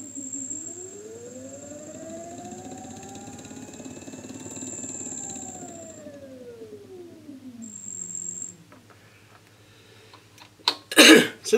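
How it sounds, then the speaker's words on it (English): Brushless DC motor driven from a Grove Beginner Kit speed controller, a whine rising and then falling in pitch as the potentiometer changes its speed, ending with a few sharp clatters. "using the Grove Beginner Kit as a speed controller to control a brushless motor"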